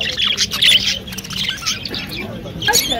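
Budgerigars chirping at an outdoor bird market, a busy chorus of bright, rapid tweets and twitters that rise and fall across the moment, fairly close, with faint crowd voices beneath.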